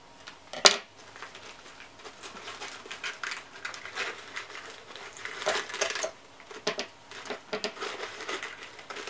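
Scissors cutting paper for homemade Christmas crackers, a series of close, crisp snips and rustles, with one louder clack near the start and faint patter throughout.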